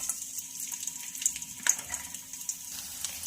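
Garlic frying in a pan for a spinach dish, a soft steady sizzle with faint crackles, fairly quiet and close, no talking.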